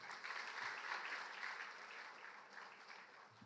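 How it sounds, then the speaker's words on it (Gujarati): Sustained applause from an audience at a Gujarat technical education and i-Hub event, sending off the Chief Minister. The clapping is dense and steady throughout and tapers slightly toward the end. "આવો ફરીવાર તાળીઓથી આપણે આભાર વ્યક્ત કરીએ"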